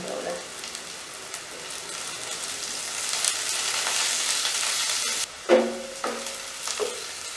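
Onions and curry leaves frying in a pan for Jaffna-style anchovy dried-fish biryani, a soft steady sizzle that swells, then sharper spatters and stirring clatter near the end.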